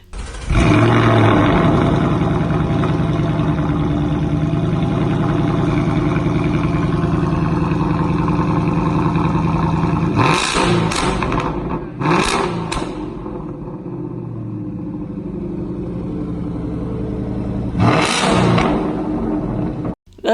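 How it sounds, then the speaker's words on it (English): Ford Mustang GT fitted with a Borla Attack exhaust, loud and close: a sustained roaring rev holds for about ten seconds, then several sharp throttle blips and a lower idle-like drone, with one more blip near the end. "the sound is from a Ford Mustang GT with Borla Attack exhaust"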